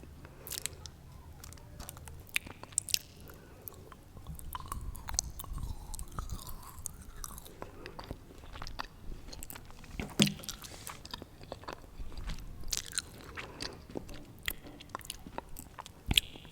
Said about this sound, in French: il y a ce petit chocolat. Est-ce que tu veux qu'on y goûte?